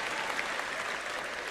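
Soft, steady applause rustles continuously at a sermon, with hands patting in a dense, even texture throughout. It stays fairly faint, with no voices.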